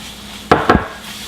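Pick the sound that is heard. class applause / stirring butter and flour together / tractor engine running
stirring butter and flour together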